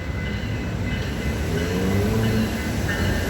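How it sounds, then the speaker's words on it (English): A Metra commuter train rumbles steadily at close range arriving at a station in the rain, a continuous low roar with faint metallic squeals rising over it as it rolls in. "The next outbound Metro train from Chicago is now arriving in your station."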